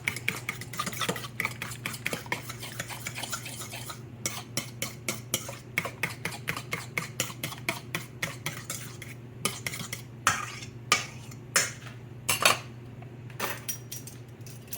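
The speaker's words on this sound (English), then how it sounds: "Now you want to stir this up" A spoon scrapes and clinks rhythmically through a deviled crab mixture in a pan just taken off the burner, quick repeated strokes over a faint residual sizzle, with no talking.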